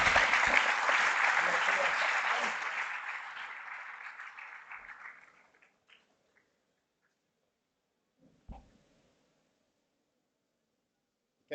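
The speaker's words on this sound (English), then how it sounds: "Let's give them a round of applause" An assembly crowd at a school Founders Day gives a round of applause: dense, loud clapping from many hands that gradually fades out over about five seconds, followed by near silence with a few faint knocks.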